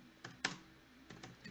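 A router configuration command being typed on a computer keyboard, heard as a few faint, scattered key taps close by against a quiet background.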